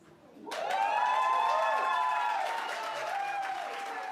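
An audience at a public hearing on repealing a law breaks into applause and cheering, rising suddenly after a quiet moment and holding loud and steady, with raised voices ringing through the crowd.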